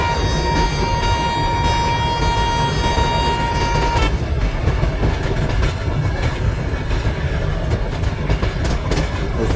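The 12433 Chennai–Nizamuddin Rajdhani Express runs on rails with a loud, continuous rumble and clatter, a sustained horn tone sounding over the first four seconds before cutting off.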